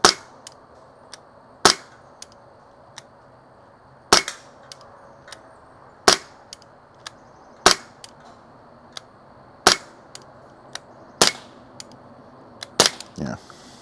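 A pistol fires single shots while plinking, about a dozen sharp, loud cracks spaced a second or two apart, with a quick double shot at the end.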